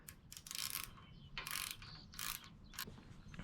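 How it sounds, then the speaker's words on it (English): A 13mm socket ratchet clicks in quick bursts as a bolt on a MotoVox minibike is tightened with a 10mm wrench holding the nut, several short rattling runs of pawl clicks close to the microphone, no talk. "now I'm gonna take my 13mm socket and my 10mm wrench and tighten this"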